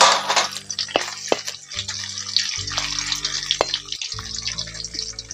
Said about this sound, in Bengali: এবার নারকেলগুলো ভেজে নেবো